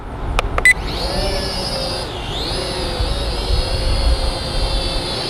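A JJRC H68 Bellwether drone's rotors whine up into a steady high-pitched buzz during auto takeoff, near and loud, dipping briefly in pitch midway before holding steady, after a couple of short beeps at the start.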